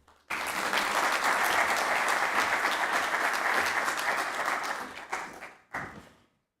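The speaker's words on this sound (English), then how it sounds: "Please let's appreciate Dr. Raymond Omolo one more time with a round of applause" Audience at the Cyberweek Africa 2024 conference opening ceremony breaks into loud, sustained applause that runs for several seconds, thins out, then ends with a short final burst of clapping.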